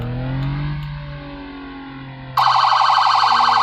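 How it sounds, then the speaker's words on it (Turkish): A police car siren in the video game Flashing Lights switches on abruptly partway through, a loud, steady wailing tone that runs to the end, following a stretch of low engine hum. "siren açalım arada, da polis geldiği belli olsun"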